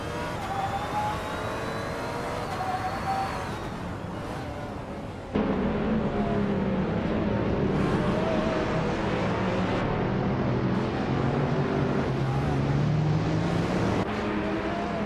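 Race cars lapping Brands Hatch in a racing video game, including a 2009 Lola Aston Martin B0960 LMP 900 prototype, a steady close engine drone with rising and falling pitch, growing louder and fuller partway through, no talk.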